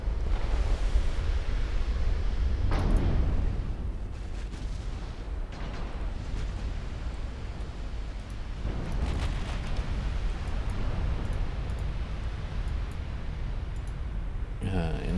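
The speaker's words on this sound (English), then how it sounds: "I got some 19-inch guns that are now ready to target some poor light cruisers." 19-inch naval guns firing in Ultimate Admiral Dreadnoughts: deep booming salvos roll over a constant roar of sea and wind, with heavier rumbling blasts near the start and middle and talk over the top.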